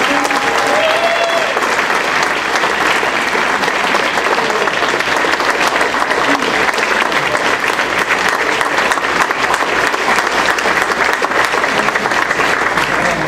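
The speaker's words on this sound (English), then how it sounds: "Give him a round of applause." A Rotary Club audience in Charlotte claps for a staff member, sustained loud applause from a large crowd continuing steadily for over ten seconds without pause.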